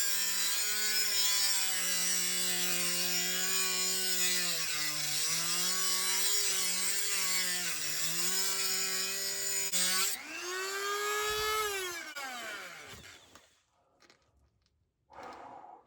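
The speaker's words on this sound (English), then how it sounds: "What I am doing is taking a Dremel to the bottom of my motor." A Dremel grinding the bottom of an aluminum motor, a loud high whine that wavers as the tool bites and eases. The whine then rises in pitch, cuts out and ends in a brief burst.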